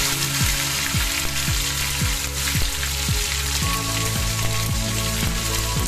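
Onions and tomato frying in hot oil, a loud, steady crackling sizzle close by, with a repeated rhythmic low thumping running underneath.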